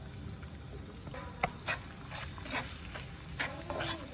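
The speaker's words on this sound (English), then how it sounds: "Sauté and smooth the gravy with spatula on medium heat." Prawn karahi gravy of onions, tomatoes and marinade sautéed in oil with a spatula over medium heat, a faint background of gentle sizzling broken by several soft scraping and stirring knocks.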